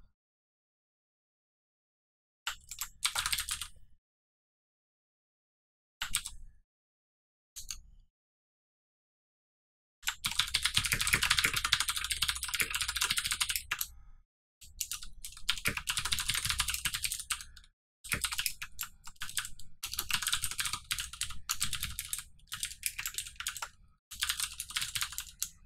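Fingers clatter on a computer keyboard in a beginners' 2v2 tournament setting, starting in short isolated bursts and then settling into long, steady runs of rapid close-up keystrokes with brief pauses.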